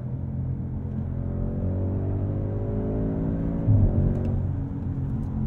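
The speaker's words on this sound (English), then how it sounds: "This car hurtles down the roadway." A 2022 Audi S8 L engine rumbles and revs steadily as the car accelerates, a sustained close drone rising in pitch, with a brief louder surge near the end.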